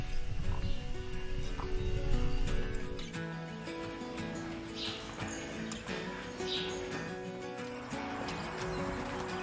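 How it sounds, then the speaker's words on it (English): A polo horse at a Virginia stable, with hooves clip-clopping under steady barn ambience and faint bird chirps; moderate level, no clear talk. "El caballo es muy bonito, le gusta la rutina de trabajo"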